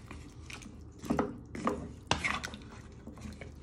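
Potatoes and vegetables for a winter vegetable soup are stirred in a pot, producing a run of close scraping and clinking spoon-against-metal strokes with short pauses between, alone without talk.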